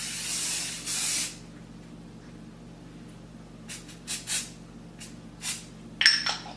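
Airbrush foundation sprayed onto skin in a row of short, close, hissing bursts, with a longer spray at the start and a small clink near the end.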